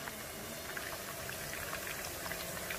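Nigerian Buka stew simmers in a pot with a steady, soft bubbling and faint crackle, continuous and fairly quiet throughout with no voices.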